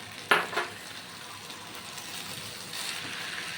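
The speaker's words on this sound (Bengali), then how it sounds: "এবার ভালো করে মিশিয়ে নিচ্ছি।" A spoon stirs vegetarian dalia pulao with fried nuts in a hot pan, making a soft continuous sizzle with a couple of sharp scraping clinks near the start, close and with no talking.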